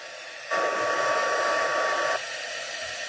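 Heat tool blowing hot air to melt embossing powder on the back of cardstock, a steady close whirring hum switching on abruptly and running for under two seconds before cutting off.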